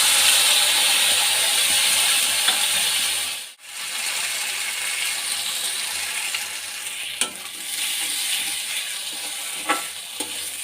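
A ground paste of cumin, ginger and chilli fries in a pan for a prawn and banana-blossom curry, sizzling loudly and steadily. It cuts out briefly, then resumes with occasional clicks of stirring.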